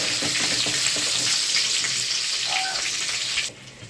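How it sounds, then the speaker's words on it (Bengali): Brinjal pieces fry in hot mustard oil in a pan, a steady, dense, loud sizzle that stays close and unbroken, with faint stirring scrapes inside it before it drops off sharply near the end; no voices. "বেগুনটাকে কিন্তু ভালো করে একটু ভেজে নেওয়া হচ্ছে"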